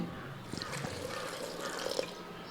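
Water steeped with clearing nuts and nannari root is poured into a container, giving a soft, steady trickle and splash that runs throughout at moderate, close level.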